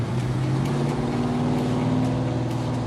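A modified street-machine car engine idles loud and rough through a freshly installed exhaust, a steady throbbing rumble close by with no one talking.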